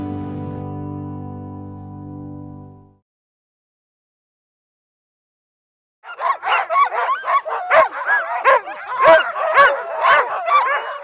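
Sled dogs at a kennel bark excitedly while being harnessed, a loud, dense chorus of overlapping yips and barks. It starts after a steady hum and then a few seconds of silence.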